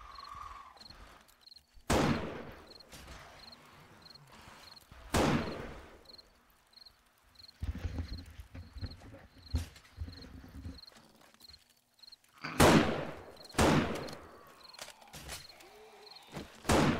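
Hunting rifle shots in the zombie survival game 7 Days to Die, fired during a horde night as several sharp cracks spaced a few seconds apart. Softer thuds, footsteps and a faint repeating chirp fill the gaps.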